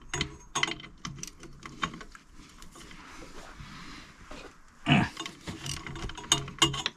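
Torque wrench ratcheting and clicking while tightening the rear wheel nuts on a Piaggio MP3 500 HPE scooter during a tyre change, heard as irregular close mechanical bursts with a sharper click near the end and no talk.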